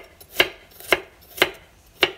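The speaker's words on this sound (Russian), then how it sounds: "Теперь берем и просто крупно его нарезаем." Four crisp knife chops land on a cutting board at a steady, unhurried pace, coarsely cutting vegetables, close and clear with no talking.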